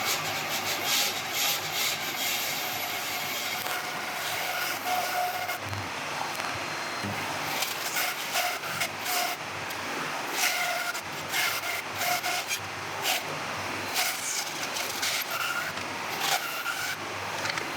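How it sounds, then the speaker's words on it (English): A bandsaw cutting a wood and resin blank, a continuous loud rasping whir with repeated surges as the blade bites and the piece is fed through, no talking. "then we shall cut it out on the bandsaw"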